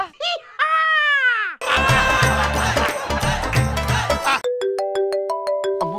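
A phone ringtone plays loudly and close, a bright electronic melody of repeating tones following a stretch of other music and child sounds.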